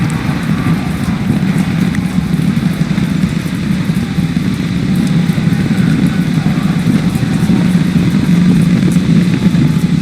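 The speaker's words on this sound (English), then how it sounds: "We are seeing 33 out of 33 Raptor engines ignited on the Super Heavy booster." A SpaceX Super Heavy booster with 33 Raptor rocket engines rumbles on a Starship flight test, a loud, dense, continuous low roar that holds steady from start to finish.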